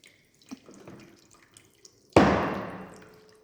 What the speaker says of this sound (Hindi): देखो पानी गिरता जा रहा है और ऊपर से कम होता जा रहा है